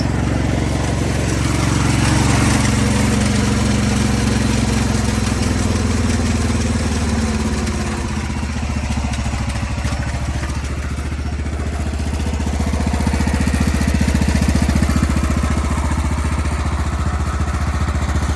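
Engine of a barn-find Wheel Horse garden tractor running steadily up close, a loud continuous low rumble with slight swells in intensity.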